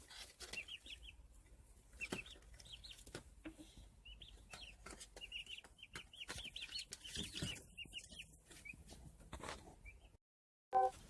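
Several turkeys cluck and chirp in quick, overlapping bursts at close range while eating hemp, with scratching and shuffling noises underneath, then a brief pause and a sharp sound.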